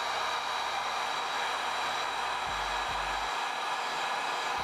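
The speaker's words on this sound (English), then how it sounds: "When you're using your heat gun, you want to be a little careful." A heat gun blows steadily and loudly at close range while working on Jordan Flu Game 12 sneakers, giving a constant roaring hiss with slight low rumbles toward the end.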